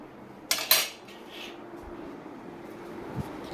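A metal spoon clatters sharply twice against a dish while being washed, followed by quieter handling noises and a faint clink near the end.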